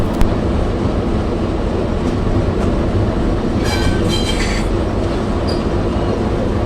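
A train on the Adirondack Scenic Railroad rumbles steadily nearby, with a constant low roar and faint high wheel squeals and metallic clicks partway through.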